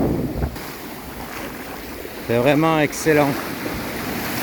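Small sea waves wash gently onto a Corsican beach under steady wind noise, a continuous soft surf close by while someone speaks briefly over it.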